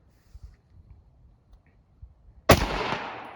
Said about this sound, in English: the rifle does not move hardly at all when he shoots